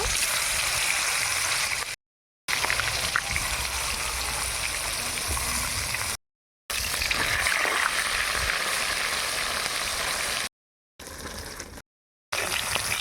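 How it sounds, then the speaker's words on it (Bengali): Fish pieces fry in oil in a wok, giving a steady rushing sizzle broken by several short silent gaps. "কড়ার মধ্যে মাছগুলো দিয়ে দেব।"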